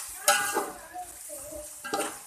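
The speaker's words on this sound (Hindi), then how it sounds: "अब मसाले के साथ भी इसको भून लेंगे मैं ज़रा सा" Bhindi gosht, okra and meat, frying with spices in a pan, giving a soft sizzle with a few stirring scrapes and clinks of a utensil against the pan, close and fairly quiet.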